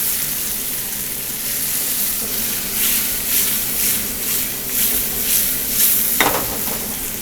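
Fava beans and other ingredients browning in a hot pan, a steady sizzle and frying hiss with occasional stirring scrapes and a brief louder crackle near the end, close and continuous with no talk.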